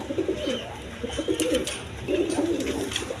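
A pair of Indian Bombay pigeons, big-bodied birds, coo in repeated soft, throaty bursts close by, with brief pauses between phrases and a faint background hiss.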